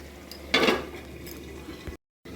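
A lid set down over a cooking pan of paneer and peas, with a short metallic clank and rattle followed by quiet kitchen background and a brief dropout.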